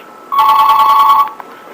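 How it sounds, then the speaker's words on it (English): A telephone rings once in a loud, close electronic trill lasting about a second, followed by faint clicks in an otherwise quiet room. "like I was saying before the phone rang"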